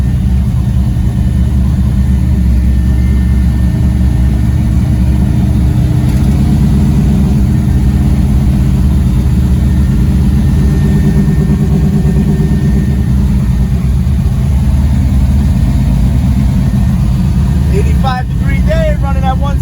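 An old-school New York street race car idles close by with a loud, steady, deep rumble that holds evenly throughout, and a brief higher sound comes in near the end.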